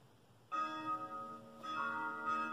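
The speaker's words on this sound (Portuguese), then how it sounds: "Esse som é do sino badalando," A bell rings out with two strong strikes and a long, shimmering metallic tone that sustains and overlaps between hits, fairly close and clear.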